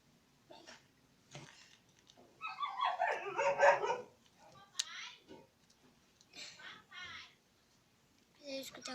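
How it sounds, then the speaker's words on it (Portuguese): A neighbour's dog barks in several scattered bursts, with a few yips and whimpers between them. It sounds fairly quiet and somewhat distant, and children's voices are heard in between. "Precisa escutar o som de cachorro na vizinha"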